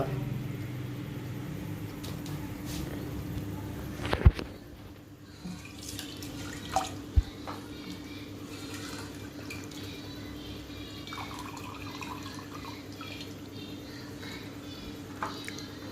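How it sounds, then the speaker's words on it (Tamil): Water runs and sloshes steadily as ragi vermicelli is rinsed, with a sharp clink near the start and soft splashes throughout, close and moderately loud. "சும்மா அப்படியே அலசி எடுத்து வச்சுக்கலாம்"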